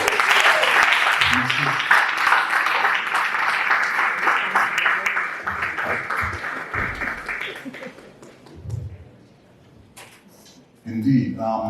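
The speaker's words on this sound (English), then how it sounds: "Ladies and gentlemen, let's do a big round of applause" Audience applause at a public lecture on journalism and social change, a strong burst of clapping that gradually fades. A voice speaks briefly in the lulls, and talk resumes at the end.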